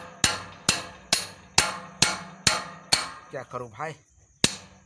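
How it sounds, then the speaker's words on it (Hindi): A hammer drives a small metal angle stake into farm ground, striking with eight sharp, ringing clanks in a steady rhythm at close range, and someone briefly speaks between the final blows. "इसे भी थोड़ा सा मैं गाड़ लूँगा हथौड़े से ठोक।"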